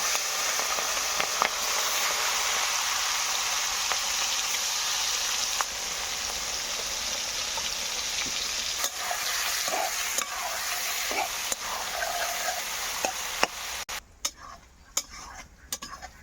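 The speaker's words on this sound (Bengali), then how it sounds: "তো চিংড়ি মাছগুলো এবার ভেজে নেব।" Large freshwater prawns fry in a pan with a constant, dense hiss of sizzling oil and occasional light clicks of a utensil, the sizzle easing near the end.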